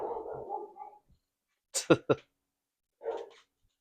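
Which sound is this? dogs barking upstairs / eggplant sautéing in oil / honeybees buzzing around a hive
dogs barking upstairs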